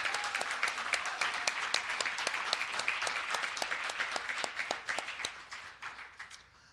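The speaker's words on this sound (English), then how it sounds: "So let's give them a round of applause." A small crowd applauding, brisk clapping that holds steady and then gradually thins out, heard from a little distance.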